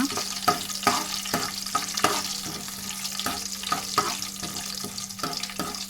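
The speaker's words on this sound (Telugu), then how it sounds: "ఇలా పోపు దినుసులన్నీ వేసుకుని తాలింపు పెట్టుకుంటే చాలా టేస్ట్గా ఉంటుందన్నమాట" Tempering spices crackle and fry in hot oil for gongura dal, a steady broadband sizzle with regular sharp scrapes of stirring about twice a second, close and moderately loud, with no talking.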